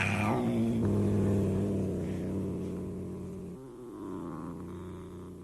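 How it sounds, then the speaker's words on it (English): A sleek, fat cat purrs steadily and close by, a low rhythmic rumble that fades slightly midway, with no voices. "she found comfort in her cat, in the gentle, oh so comforting purr of her sleek,"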